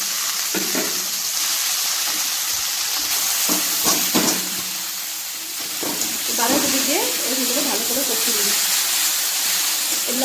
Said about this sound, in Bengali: এখন আমি বাঁধাকপিটাও দিয়ে দেবো দিয়ে সবগুলো একসাথে কষিয়ে দেবো